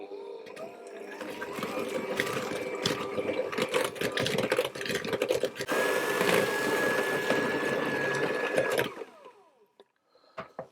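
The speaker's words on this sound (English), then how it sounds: "I'm going to whisk that and get that fully combined as well" An electric mixer whisks batter for coconut biscuits, a steady, close whirring drone that runs for about nine seconds with small rattles and clatter mixed in, then stops abruptly, leaving near quiet.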